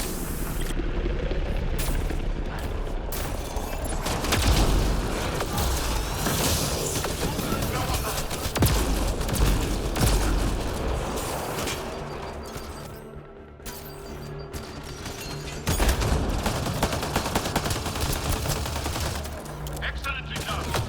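Dense sustained gunfire in a firefight on Voeld in Mass Effect: Andromeda, rapid volleys and booms layered over game music and effects, loud and close, with voices speaking over the action.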